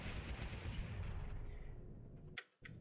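In a VR video game, flintlock musket fire booms as a dense, loud roll of shots that decays into quiet, then two brief sharp cracks close out.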